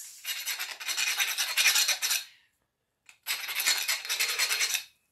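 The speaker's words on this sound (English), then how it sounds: "You'll need to get your round file and clean out these as well" Round file rasping out bolt holes on a sim surge trolley carriage, two sustained bursts of steady scraping strokes up close with a short silent gap between them.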